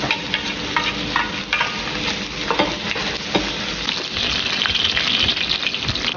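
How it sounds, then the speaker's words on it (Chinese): Pork fat stir-fries in a wok for a Guizhou-style street hotpot, giving a loud, continuous sizzle broken by frequent sharp scrapes and clacks of the spatula. "来，先把这个肥肉炒一下。"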